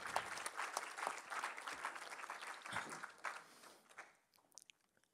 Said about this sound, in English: a big applause for all the people who came from out of town